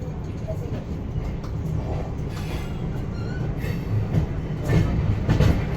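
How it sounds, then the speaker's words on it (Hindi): The Mumbai CSMT–Howrah Gitanjali Express passing close by, a dense continuous rumble of rolling wheels and rail clatter with some squealing, growing slightly louder toward the end. "सामने आ गई है मुंबई CSMT हावड़ा गीतांजलि एक्सप्रेस"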